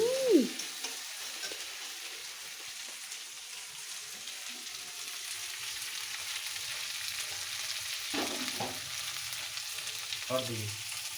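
Hot oil sizzles in a pan while fish curry is cooked at home, a steady low hiss running throughout with a few brief louder crackles and stirring bursts toward the end, no talk.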